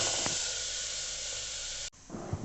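A pressure cooker hisses out steam while green pea curry cooks inside, a loud, steady rush of spray that cuts off abruptly near the end, followed by faint kitchen noises.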